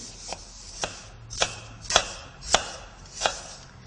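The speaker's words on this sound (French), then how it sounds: "On coupe la pomme en petits morceaux ou en lamelles selon les goûts" A knife chops an apple into small pieces on a cutting board, six crisp, evenly spaced thuds about half a second apart, close and alone.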